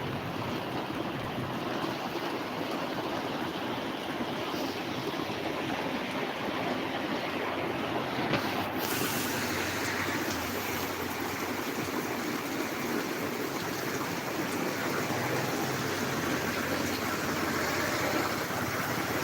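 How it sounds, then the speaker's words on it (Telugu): Heavy rain pours down in Kakinada with a steady, dense broadband roar that holds evenly throughout, no voices heard. "బాబాయ్ వాన అయితే అలా పడుతూనే ఉందండి బాబు"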